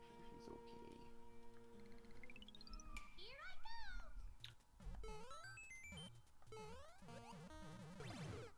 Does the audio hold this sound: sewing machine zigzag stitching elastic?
no